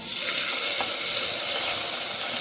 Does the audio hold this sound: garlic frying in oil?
yes